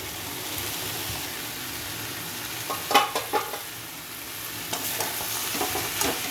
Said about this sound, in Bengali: এবারে আমি এই সবজিগুলোকে দিয়ে দেবো, আলু কপি সব সবজিগুলোকে দিয়ে দেবো